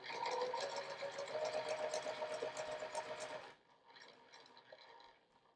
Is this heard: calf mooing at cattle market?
no